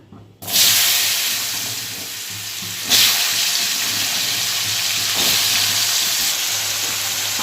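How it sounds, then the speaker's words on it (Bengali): Potatoes fry in hot oil in a pan, a steady close sizzle and hiss that flares at the start and again partway through, continuing unbroken with no talking. "নেড়ে এবার আলুটা ভাজতে থাকবো"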